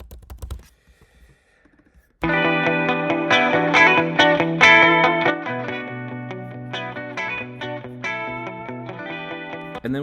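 A lush guitar loop drenched in reverb, entering after a short near-silent gap and ringing continuously with layered sustained chords and a spacious tail, no voices present.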